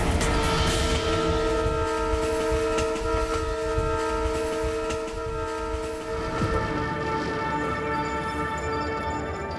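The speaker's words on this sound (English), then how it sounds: "I'm on an epic train journey that takes on the Andes to reach the Pacific coast" A train on a Bolivian railway crossing the Andes sounds a long, loud tonal horn for most of the stretch, over the rumble and clatter of wheels on the track.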